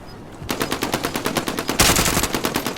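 Rapid automatic gunfire from an assault rifle in Call of Duty Warzone (Cold War), a steady burst of evenly spaced shots rattling loud and close for over two seconds, swelling heavier near the end.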